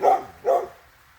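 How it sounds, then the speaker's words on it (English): A dog gives two quick, close barks in succession, the second slightly fainter, followed by quiet. "He's wagging his tail, but he's barking."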